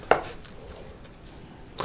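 Knife chopping potatoes into quarters on a cutting board for Turkish potato salad: two sharp, close cuts, one near the start and one at the end, with quiet kitchen sounds between.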